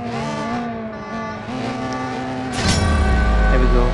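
Car engine in the CSR 2 drag-racing game revving loudly with rising harmonic whine, building to a heavier roar near the end, while someone talks over it.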